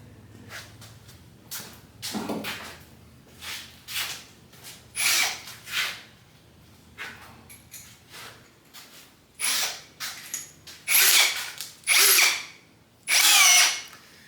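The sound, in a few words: drilling a hole with step drill bit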